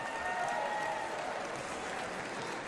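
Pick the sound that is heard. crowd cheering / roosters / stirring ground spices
crowd cheering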